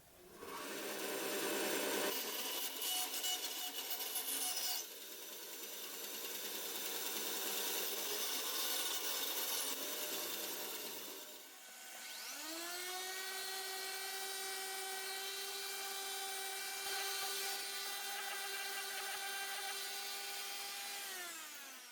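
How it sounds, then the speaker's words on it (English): Excess wood is trimmed and an X cross joint on wooden box corners is sanded: rough rasping and scraping first, then a steady, close power-tool motor whine holding a constant pitch. "I'm now going to take off the extra material, we'll sand it down, and we'll be done."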